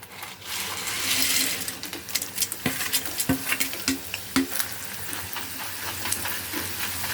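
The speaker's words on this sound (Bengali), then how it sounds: "এক দু মিনিটের জন্য এটাকে মিডিয়াম ফ্লেমে ভেজে নেব" Crispy taro chips, made with just taro and salt, are refried in oil over a medium flame. A soft sizzle runs under scattered sharp clinks and scrapes from stirring, and no one speaks.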